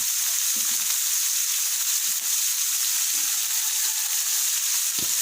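Cucumber and pork stir-fry in a pan, sizzling loudly and steadily with a bright hiss, punctuated by a few soft scrapes and stirs, close up and without any voices.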